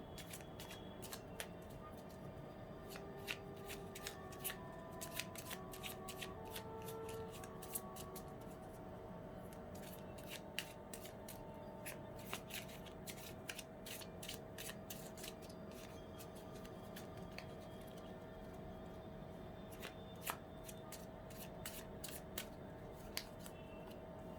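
Tarot cards being shuffled by hand, with repeated crisp riffling and snapping bursts over a steady faint background hum, close and continuous with no talking.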